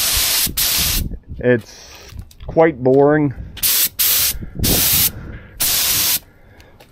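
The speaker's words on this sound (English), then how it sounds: "So just with a spray gun," Spray gun applying epoxy primer in a basement under construction, a series of loud, sharp hissing bursts, each about half a second long and separated by pauses, with someone speaking briefly between them.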